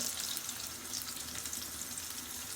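Garlic sizzling in hot oil at the start of cooking dal, a steady close crackle and hiss with no pauses and no voices.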